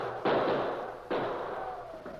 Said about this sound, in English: I want to listen to that gunfire.